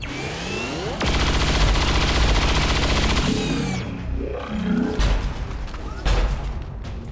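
Heavy automatic weapon fire in the video game XCOM 2, a loud sustained burst followed by scattered impacts, booms and sharp shots as the firing trails off.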